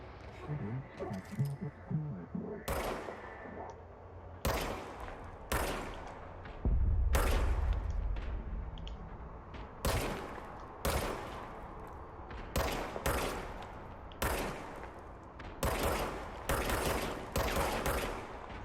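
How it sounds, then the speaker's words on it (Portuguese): Gunfire in the video game Control cracks out in repeated sharp bursts of shots, moderately loud, spaced irregularly over the whole stretch, with gameplay sounds between them. "Okay, now I have a gun. Agora eu posso atirar."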